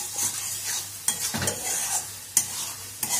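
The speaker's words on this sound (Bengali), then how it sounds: "এটাকে এখন তেলের মধ্যে ভালো করে, মানে মশলার মধ্যে ভালো করে নেড়ে নেড়ে ড্রাই করতে হবে।" Lote fish being stirred in hot spiced oil in a pan, a steady sizzle broken by a few sharp scrapes and clinks of the spoon against the metal, close and fairly loud with no one speaking.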